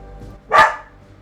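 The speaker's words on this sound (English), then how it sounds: "Why are you barking?" A single sharp dog bark rings out close and loud, standing alone against a quiet room.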